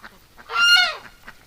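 A wet duck at a swamp gives a single loud, nasal, honking call in winter, close by and alone against quiet surroundings.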